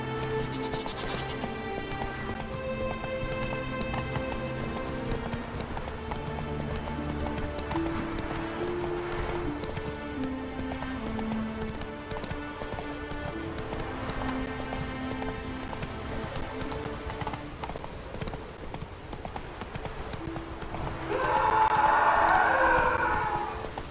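Roach, a horse in The Witcher 3, gallops with a steady clip-clop of hooves under a continuous bed of game music, and a louder burst of sound rises near the end.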